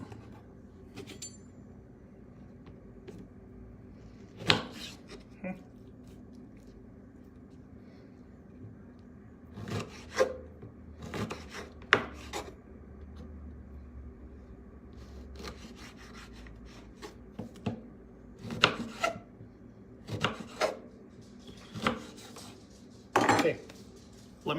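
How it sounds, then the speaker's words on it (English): A kitchen knife slices lemons for a broiled salmon and asparagus meal, giving irregular sharp taps and knocks on a cutting board spaced every second or so, with faint scraping between cuts and quiet kitchen room tone. "we're going to cut some of these lemon slices while I'm waiting."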